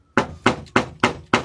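Five sharp, evenly spaced metallic taps of a hammer on a screwdriver, driven behind the tabs of a classic Mopar instrument voltage regulator to pry them open, close and loud with short ringing decays.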